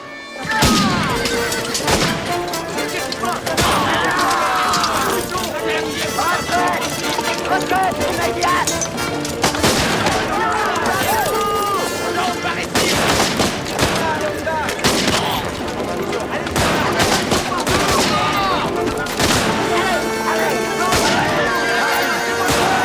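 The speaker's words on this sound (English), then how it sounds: "was gunfire, a long way off." Rifle fire from Baker rifles crackles in irregular bursts and scattered single shots, sustained and dense across the scene, heard amid other commotion and talk.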